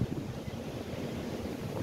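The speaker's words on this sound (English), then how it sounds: "The waves are smashing against each other." Surf rolls onto Fort Myers Beach as a steady, broad roar of breaking waves, loud and continuous, mixed with some wind rumble and no voices.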